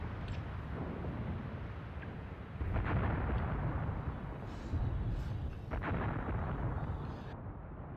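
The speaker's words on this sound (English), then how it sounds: "Artillery from the Soviets switches position, but again it comes into the trenches behind us." Soviet artillery shells slam into trenches in Graviteam Tactics, a steady low rumble of distant barrage punctuated by heavier booming impacts around three and six seconds, sustained and loud with no talking.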